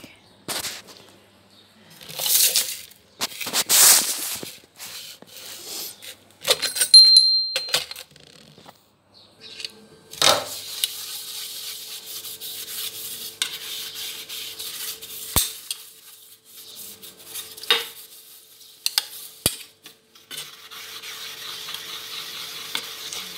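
Brass puja utensils being washed and scrubbed, with intermittent metallic clinks and scraping rubs, some water and handling noise, close and moderately loud with pauses between bursts, no talking.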